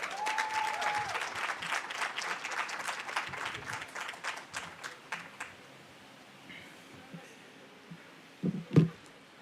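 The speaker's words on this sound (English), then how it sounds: "Big applause." Audience applause at a university graduation ceremony for architecture students, a dense wash of many hands clapping that gradually thins and fades, with a few louder isolated sounds near the end.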